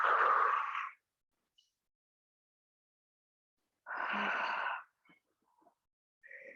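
Deep breathing during a quad, knee and hip stretching class, two long breathy exhalations separated by silence, close and moderately loud, followed by faint short breathy sounds.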